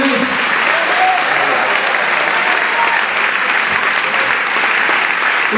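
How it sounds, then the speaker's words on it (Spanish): Loud, sustained applause from a church congregation during a sermon, a dense even wash of clapping held at constant volume throughout, with no pauses or distinct voices above it. "si usted le da un aplauso fuerte al Señor Jesucristo"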